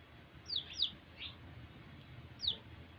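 A baby chick, stuck somewhere in a village yard, gives three short high chirps, two close together and a third after a pause, faint over steady low background noise.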